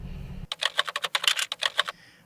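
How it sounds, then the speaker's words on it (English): Computer keyboard typing from a stock sound effect, a quick run of crisp, evenly spaced key clicks that starts abruptly after a brief low hum and then stops, close and clear with no voices. "figure out where the typing stops"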